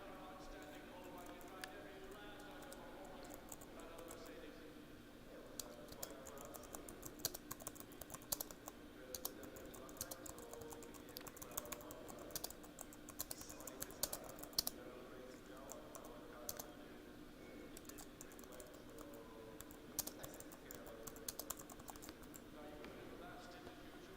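Fast, continuous typing on a computer keyboard, with quiet, irregular clicks and clacks spread over more than twenty seconds against a low background hum.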